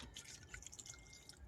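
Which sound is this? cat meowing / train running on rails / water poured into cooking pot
water poured into cooking pot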